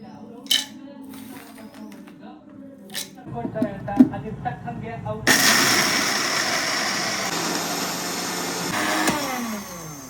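An Agaro blender grinding peanut chutney, a loud steady whirring motor roar that starts abruptly after a few clinks and rattles, running continuously while someone talks nearby.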